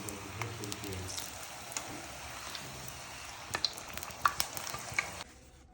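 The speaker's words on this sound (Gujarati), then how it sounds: "આપણા એકદમ બ્રાઉન થાય ત્યાં સુધી આપણે ફ્રાય કરવાનું છે" Pakwan dough fries in hot oil until brown, giving a soft, steady sizzle with scattered small pops and crackles that grow livelier near the end before the noise drops away.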